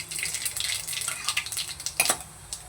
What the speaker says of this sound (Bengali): কালো জিরে ফোড়ন।